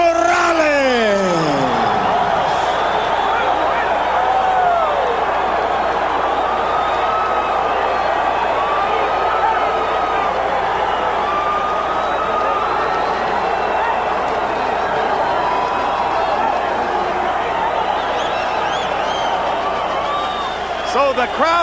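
A boxing arena crowd roars and murmurs continuously after a split decision in the Erik Morales versus Marco Antonio Barrera fight, a dense, steady wash of noise under a commentator's talk.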